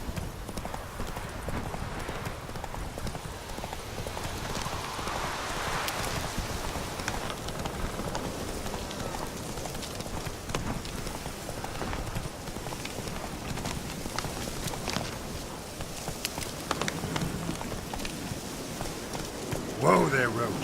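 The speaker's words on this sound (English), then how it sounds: "Whoa there, Roach." In The Witcher 3, the horse Roach gallops with a steady, fast clip-clop of hooves throughout, moderately close, mixed with rain-like ambience and game sounds.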